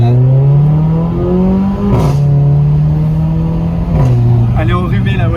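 A car engine drones steadily, rising in pitch, then dropping with gear shifts about two and four seconds in. The engine stays loud and close throughout, with a bit of chatter at the end.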